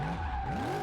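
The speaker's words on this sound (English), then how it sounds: "We can drift it through all the containers." Supercharged V8 Formula Drift-style car sliding sideways, a loud continuous tire skid with a steady engine drone underneath, close and sustained with no pause.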